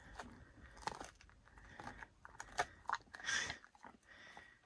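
Soft, irregular gnawing and crunching up close as a dog chews a bone, with wet chewing clicks and scrapes, steady and quiet with no voices.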